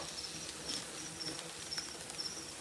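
A strong colony of young canudo cara amarela stingless bees gives off a faint, steady buzzing hiss with light repeated high chirps, heard close up and without any talk.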